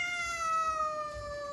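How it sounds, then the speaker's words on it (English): Cat screaming outside a door, a single long, drawn-out meow with a slowly falling pitch, fairly close and alone. "my cat just started screaming outside the door, so I had to lock him in another room"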